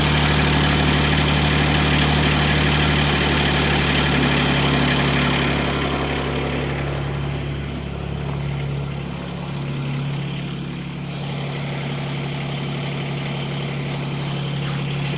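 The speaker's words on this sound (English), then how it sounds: "Oh, that's the idle." A Hightop HT20 Pro mini excavator engine idles steadily after a cold start in sub-freezing weather, a continuous low diesel drone with a strong hum that stays even throughout and softens slightly midway.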